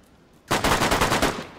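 Automatic gunfire in DayZ erupts after a quiet moment as a rapid burst of about eight or nine loud, evenly spaced shots, continuing steadily for over a second with no talking.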